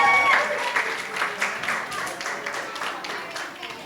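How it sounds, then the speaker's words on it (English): Guests at a bar mitzvah give a round of applause, moderate clapping that starts strongest and slowly thins out, with a faint voice briefly over the opening. "let's give a round of applause for Ali"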